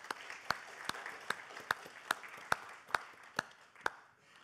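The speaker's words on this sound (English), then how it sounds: "So let's give those spouses a round of applause as well." Applause at a book talk honoring service members' spouses comes as a sparse series of about nine evenly spaced, crisp claps, fairly faint against a quiet room.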